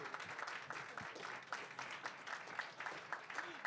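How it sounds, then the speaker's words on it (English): A convention audience gives a round of applause for a presenter at a PowerPoint party, with faint, dense clapping mixed with cheers and voices over a few seconds. "Everyone, round of applause for Gray"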